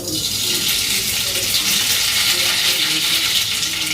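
Bay leaf and mustard seeds fry in hot oil in a kadhai, a loud, continuous sizzling hiss that holds steady close up, with no voices over it.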